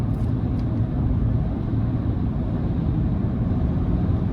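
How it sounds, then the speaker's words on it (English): Road noise from Trail Boss off-road tires on a 2023 Chevrolet Silverado 1500 LT with the 3.0 engine, a steady broad roar with low rumble filling the cabin, constant and fairly loud with no speech. "with this having the Trail Boss off-road tires, of course the road noise is pretty prevalent"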